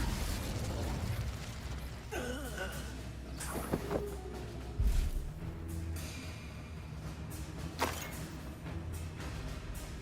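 Fiery Confringo spell blasts in the Hogwarts Legacy video game, a few pops and booms scattered among whooshing effects and a duel's shouted voices, moderately quiet overall.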